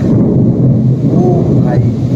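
Loud, deep thunder rolls continuously through a heavy rainstorm in a rural village, with the downpour hissing underneath the rumble.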